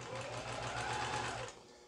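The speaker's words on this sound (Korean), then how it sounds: "옷감을 넣고 제가 여러 차례 말씀을 드리지만 바늘을 꼽고 출발을 하세요" A Riko BL3800 household sewing machine stitching fabric after repair, running in a steady, fast mechanical whir with a low rhythmic thump of the needle for about a second and a half before it stops.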